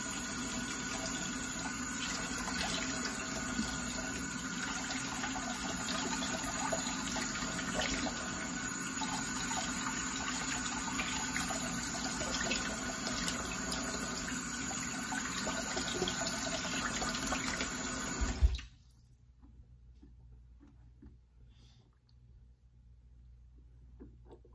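A tap runs steadily into a sink for about eighteen seconds with a constant close rushing hiss, then shuts off abruptly, leaving faint room noise.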